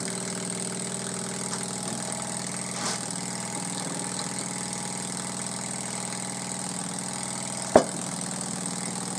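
A homemade air-driven engine on its first run chugs along steadily and evenly close by, with one sharp knock near the end and no talking.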